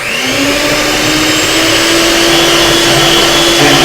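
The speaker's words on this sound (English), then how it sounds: "mix that up real good. Make sure it's all blended real well." An electric mixer runs loud and continuous while blending recipe ingredients, a steady high motor whine with a slight rise in pitch, close and alone.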